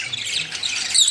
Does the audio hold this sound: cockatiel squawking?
yes